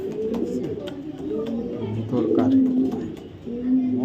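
A racing pigeon coos in low, throaty rolling phrases close by, repeated several times, with a person talking in the background.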